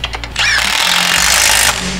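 A pneumatic impact gun drives bolts on a Land Cruiser steering knuckle in a single loud, close rattling burst of just over a second, with a quieter hum before and after.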